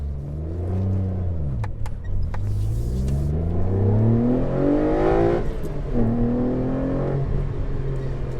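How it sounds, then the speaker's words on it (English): A Renault Clio V6 Phase 2 accelerates hard at full throttle, its engine note rising through the revs in sweeping climbs with a brief gear change, loud and close from inside the car. "Just a short pull on full throttle because of the state of the roads"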